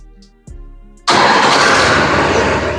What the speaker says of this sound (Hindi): अब न्यूट्रल करने के बाद ही तो तभी ये स्टार्ट होगा।